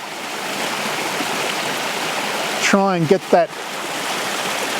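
A small feeder creek flows with a steady, close rushing hiss of water that runs throughout, briefly joined by someone speaking a few words partway through.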